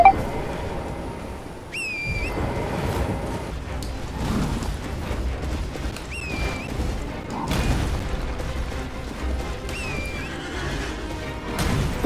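Horse neighing in the video game Elden Ring, several loud whinnies with rising and falling pitch repeated through the stretch, over clip-clop hooves, booms and busy game effects.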